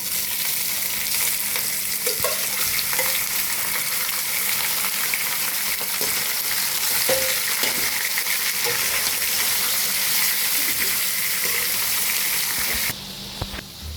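Chicken pieces sizzle in a pan of well-cooked onions for green hariyali chicken. A loud, continuous frying hiss runs throughout, with occasional stirring scrapes, then drops abruptly near the end.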